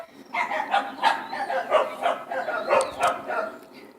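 Dog barks and yips come in a quick, fairly regular series of close, moderately loud calls with whining tones, and the sound carries through the whole four seconds indoors.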